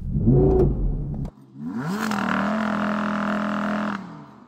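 An Audi R8 engine on snow revs up sharply, then holds a loud, steady high drone for about two seconds before cutting off, after a brief burst of other noise at the start.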